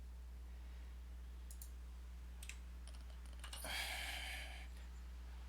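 Computer keyboard keys click in a few short, sharp bursts over a steady electrical hum, followed by a brief breathy rush.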